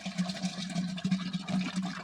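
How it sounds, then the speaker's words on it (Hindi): Cow dung slurry, five kilograms of dung mixed with water, pours steadily into a drum on a farm while making jivamrit, a continuous sloshing, gushing flow with a low hum underneath. "देखिए अब ड्रम में हम डाल दे रहे हैं इस गोबर को घोल के।"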